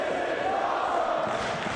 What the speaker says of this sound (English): As the crowd chants, "This is awesome," they just love both teams now.